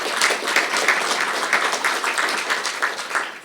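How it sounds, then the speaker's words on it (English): Audience applause at a statesman luncheon in New Brunswick, steady dense clapping from a seated room that runs unbroken for several seconds before starting to thin. "a round of applause for Mr. Latif"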